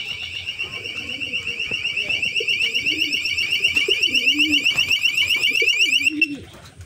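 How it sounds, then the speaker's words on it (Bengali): An alarm sounds on a rooftop where pigeons are kept, a loud, rapidly pulsing electronic beeping that holds steady for about six seconds and then cuts off, while a person talks underneath. "ওই দেখেন যে ছাদে চলে আসছি, এর জন্য এটা অ্যালার্ম বেজে গেছে"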